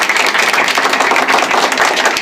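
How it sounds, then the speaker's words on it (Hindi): An audience at a coaching-centre award function in 2021 claps steadily, a dense, close burst of many hands applauding together without pause. "ताली बजाओ।"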